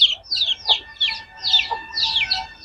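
Chicks peep in rapid, high chirps alongside a few low clucks from a hen, close and continuous.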